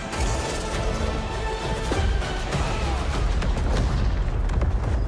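Heavy booms and crashes from a video game trailer shown at the EA Play conference at E3 2017, loud explosions landing in time with the music inside a dense, continuous roar of score and effects.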